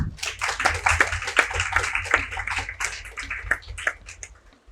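Audience applause at a formal dialogue event, with a dense, steady patter of many clapping hands close by that fades slightly toward the end.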